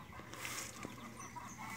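Hens cluck softly while eating BRS Kurumi grass, with faint brief clucks over a quiet, steady outdoor background.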